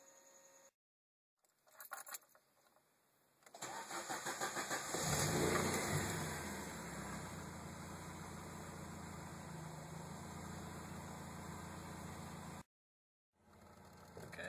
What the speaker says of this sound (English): So we're out on the road, this is first gear.